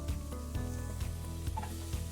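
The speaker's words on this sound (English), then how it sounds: "add a couple tablespoons of butter, and in go celery" Chopped celery sizzles in melted butter in a pan over the fire, a steady close frying crackle broken by soft, regular stirring scrapes.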